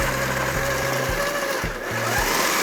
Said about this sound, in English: you can't really do this recipe without a food processor